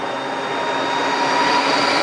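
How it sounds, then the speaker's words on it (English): A Harley-Davidson LiveWire battery-powered electric motorcycle gives a loud, steady whining whir with a thin high tone riding over broad road rush, close and continuous. "Just the whining whir of a battery-powered electric motor."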